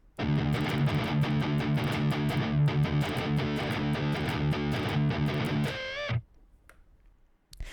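A heavily distorted electric guitar chugs a fast galloping riff, loud and driving, then cuts off abruptly into near silence.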